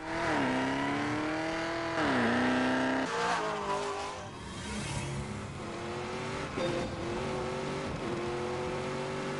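A Hennessy-tuned 1,000 hp Camaro with a standard chassis races in The Grand Tour video game. Its engine revs hard and loud through several upshifts, and a steady drone holds between brief pitch drops, with no talk over it.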